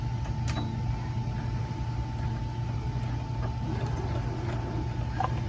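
A sewing machine runs steadily, stitching around the thick circumference of a quilted tote bag, its motor making an even, continuous hum at moderate level with faint clicks, no one talking.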